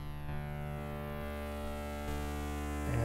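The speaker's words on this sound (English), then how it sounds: "And we can throw in a reverb" A virtual analog synthesizer plays sustained, evolving tones with slowly shifting harmonics through a reverb effect, steady and alone, swelling slightly at the end.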